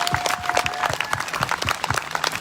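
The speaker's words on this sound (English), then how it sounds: "Give yourself a hand clap for being here." A small crowd at an equality protest claps together, a short burst of scattered, fairly close hand claps with no talk over it.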